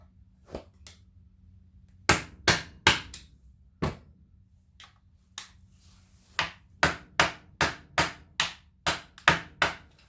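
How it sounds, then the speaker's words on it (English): Sharp metallic hammer taps staking a clutch nut on a Suzuki Bandit 1200 during an MPS diaphragm locker clutch install, a few scattered blows then a steady run of about a dozen evenly spaced strikes, close and alone. "I'm going to ding that nut."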